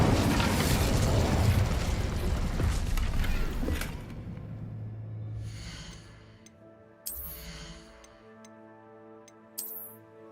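A fire spell cast in the Hogwarts Legacy video game: a loud, dense roaring burst for about four seconds, fading into quieter ticking and a few sharp pops alone.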